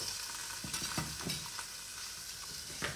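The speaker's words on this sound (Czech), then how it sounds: "Na ten špek naházím tu zeleninu." Chopped vegetables sizzling and frying on bacon in a pan, a steady hiss with several short stirring scrapes and clatters, close and moderately quiet.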